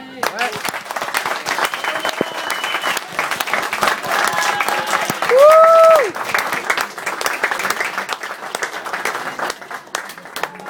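Audience applause at a gathering, a steady bed of clapping running throughout, with a voice speaking over it and a brief tonal sound rising in the middle.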